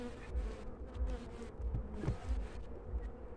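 Honeybees hum around a hive during February work, a close, low, fluttering buzz that swells and dips with passing insects, with faint handling noises and no talk.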